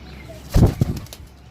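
Pigeons from one home loft make a short burst of wing flapping close by, a couple of quick flutters over quiet background.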